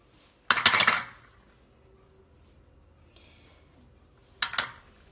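A small spoon scrapes and clinks against a dish in two short bursts, the first longer and busier, the second a quick clatter a few seconds later, close and clear in a quiet room.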